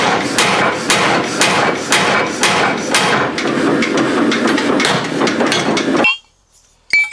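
An old power hammer, around 100 years old, runs in a forge with rapid, loud, rhythmic pounding blows that continue steadily for several seconds before cutting off abruptly into near silence.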